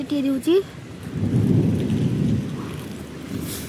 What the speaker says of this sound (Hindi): प्रबल जोर वर्षा हो